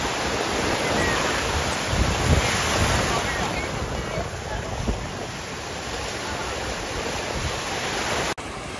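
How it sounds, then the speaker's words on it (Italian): Sea waves at a beach in the Dominican Republic roar in a loud, continuous surf wash, heavily buffeted by wind rumbling on the microphone throughout. "Siamo nel mare più bello del mondo, Repubblica Dominicana"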